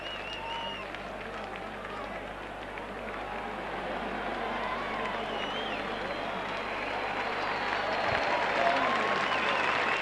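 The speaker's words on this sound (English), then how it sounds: "All the crowd in the stands on the feet, saluting the great Gill try." A rugby league crowd at a Wigan versus Hull KR playoff applauds and cheers a try, with sustained clapping and roaring from the stands that builds gradually while a commentator talks over it.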